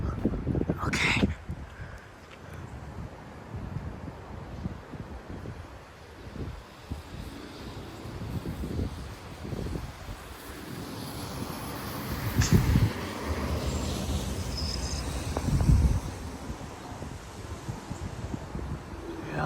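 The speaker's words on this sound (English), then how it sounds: "Oh, the wind's picking up at the top over there" Strong wind gusts from the outer bands of a severe thunderstorm in Frisco, Texas roar and rustle through trees and grass outdoors. The noise holds steady with louder surges and buffets against the microphone.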